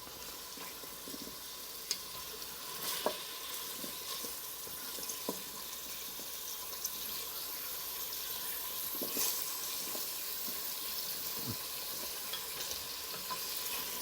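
Chicken curry frying in a pan while being stirred, a soft continuous sizzle broken by scattered scraping and clinking spoon strokes, fairly quiet and close, with no voices.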